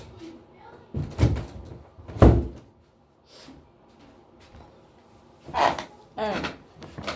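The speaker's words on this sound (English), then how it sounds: "let me shut this door off" A door is shut indoors, giving a couple of solid thumps amid handling noise and light movement, with brief talk nearby.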